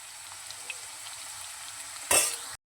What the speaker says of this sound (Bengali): একটু নুন হলুদ দিয়ে আলুগুলো একটু ভেজে নিচ্ছি।